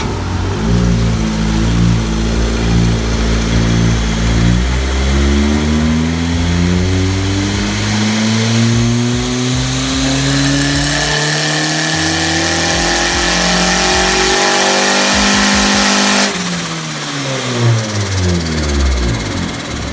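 A turbocharged Honda Civic on a dyno revs hard through rising engine sweeps, climbing in pitch, dropping off, then climbing again, loud and close with no talking.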